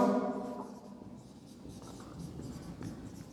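Chalk or a marker scratches across a board during an applied mechanics lecture, a steady close rubbing sound that carries on without a break after a brief fading voice at the very start.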